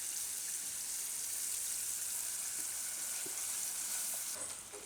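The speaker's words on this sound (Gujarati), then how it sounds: "આ રીતે હલાવતું રહેવાનું તો તરીએ ચોટે નહીં. થોડીક વાર પકાવી લેવું આને." Tomato garlic chutney frying in oil in a pan, a dense, steady, close sizzle with faint stirring scrapes underneath, easing off slightly at the very end.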